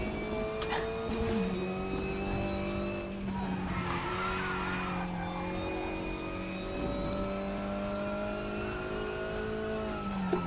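Opel Astra TCR race car lapping in the RaceRoom racing simulator, its engine droning loud and steady with pitch shifts through the gears and brief tyre squeal, no talking.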